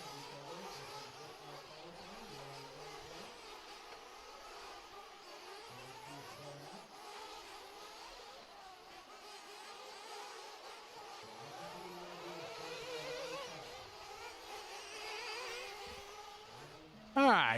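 Nitro RC race cars in a dirt racing heat roll out bunched together, a steady buzzing whine of many small engines under a continuous crowd and commentary murmur, ending in a brief loud burst.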